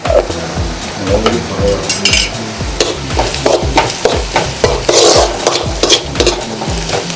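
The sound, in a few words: sautéing spices and masala powder in a pan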